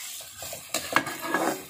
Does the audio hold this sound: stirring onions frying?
yes